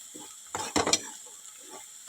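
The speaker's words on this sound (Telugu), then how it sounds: "మొత్తం మిక్స్ చేసేసుకోవాలి." A pan of salt, chili powder, turmeric, coriander powder and garam masala is stirred and fried for fish pulusu curry. Close, scraping stirring strokes sound over a soft sizzle, with a louder burst of activity in the middle.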